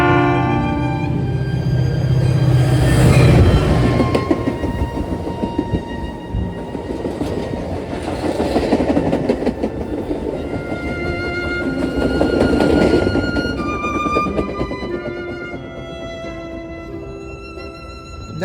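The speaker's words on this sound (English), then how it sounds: "The first train to pass Harlem Avenue was Metra train 1225 BNSF with an F40" A Metra BNSF commuter train hauled by an F40PHM-3 locomotive rolls past Harlem Avenue, a loud sustained rumble with rhythmic clickety-clack of wheels over rail joints, swelling and easing as cars go by, with no voices.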